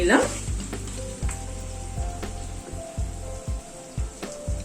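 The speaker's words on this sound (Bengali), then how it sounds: "আরো দু তিন মিনিট একটু চিকেনটা নাড়াচাড়া করে" Chicken fries in hot oil in a pan, giving a steady close sizzle with regular scraping stir strokes about once a second, and no voices.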